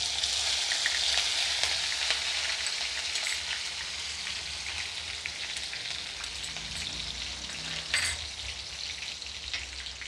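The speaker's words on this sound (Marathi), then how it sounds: "आता मी सुरुवातीला जिरे टाकते आहे, 1 चमचा जिरे टाकलेला आहे। आता मिरच्या टाकते आहे" Cumin seeds and green chilies hitting hot oil in a pan, a loud, dense, continuous sizzle and crackle that stays close throughout, with no talking.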